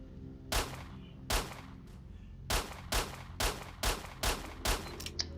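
Gunshots from S.T.A.L.K.E.R. Shadow of Chernobyl ring out as about eight sharp, loud reports, spaced irregularly at under a second apart, with no talk over them.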